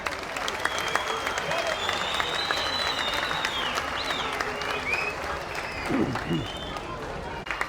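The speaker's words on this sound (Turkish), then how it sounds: "sizler için bir alkış daha." Sustained crowd applause at an amphitheatre concert in Buca, steady and fairly loud throughout, with cheers and whistles rising above the clapping.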